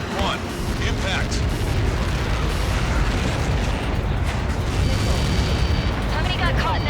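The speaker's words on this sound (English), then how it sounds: "How many got caught in that explosion?" A massive explosion in the jet combat game Ace Combat 7 roars as a dense, sustained rumble throughout, with scattered bursts and debris crackling layered over it and loud, unbroken blast noise filling the whole stretch.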